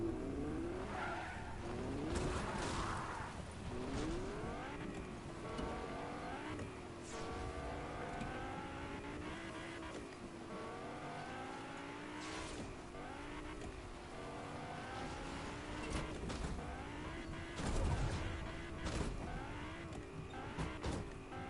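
A fast car in a video game drives through a woodland area, its engine droning with rising and falling pitch as the tires squeal and skid repeatedly. The sound is loud and continuous, with no talk over it.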